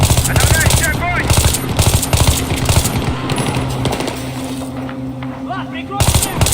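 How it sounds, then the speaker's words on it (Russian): Machine guns fire in a combat video game, dense rapid bursts of gunfire rattling loudly and nearly without pause, with shouted voices under and between the volleys. "Подавляющий огонь."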